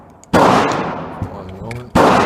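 Two unsuppressed gunshots at a shooting range, loud sharp cracks about one and a half seconds apart, each followed by a rumbling echo.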